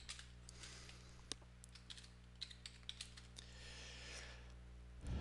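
Quiet typing on a computer keyboard, with irregular soft key clicks and a few sharper taps over a low steady hum, heard alone with no speech.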